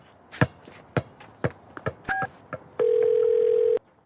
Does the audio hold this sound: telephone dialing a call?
yes